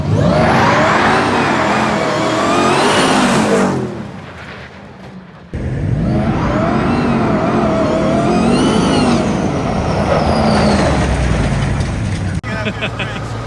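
A stock Ford Raptor R and a Ram TRX race side by side in a drag run, loud engine roar and revving surging throughout with a brief dip in the middle, voices talking over it.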